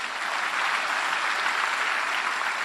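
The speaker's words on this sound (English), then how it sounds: "but you're clapping." Dense, steady applause from a large live audience fills every moment, loud and even throughout, with no voices standing out.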